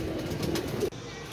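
A black Digga pigeon gives a short, soft coo, close by and lasting under a second, followed by quiet.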